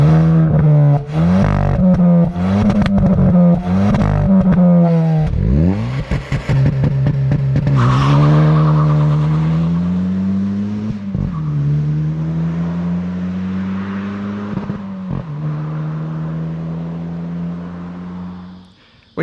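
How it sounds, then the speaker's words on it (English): A 2022 Hyundai i20 N revs hard through its bimodal exhaust in a run of loud, close engine pulls and gear changes, with sharp pops and crackles as the throttle lifts. "it's got a bimodal exhaust, hit the button and it produces some pops and crackles"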